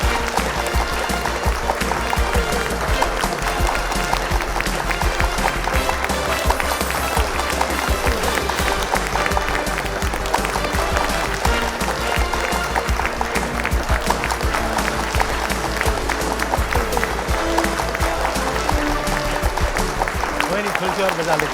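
Loud, sustained applause and clapping from a crowd at a quiz competition grand finale, honoring the third-place runner-up; dense, continuous clapping fills the whole stretch with voices mixed in.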